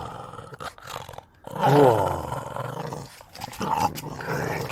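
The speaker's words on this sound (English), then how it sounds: "Hooligan's a dog that loves to play tug." A dog growls and snarls in playful bursts while tugging on a toy, with a loud rumbling growl in the middle and softer grumbles around it, heard up close.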